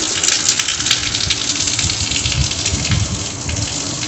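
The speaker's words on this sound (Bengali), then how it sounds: "এখানে বৃষ্টি এখনো পড়ছে মনে হয়" Steady rain falling outside a house, a continuous broadband wash of water that stays even and fairly loud throughout, with no voices.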